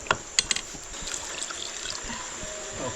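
A few quick clinks, then a small amount of water trickles and splashes into a cooking pot of mutton on a wood-fired stove, close by.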